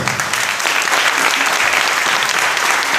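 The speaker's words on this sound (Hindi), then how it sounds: "एक अच्छी ताली अभी तक प्रभु के लिए, जोर से।" A church congregation applauds loudly and steadily for the whole three seconds, many hands clapping together close by.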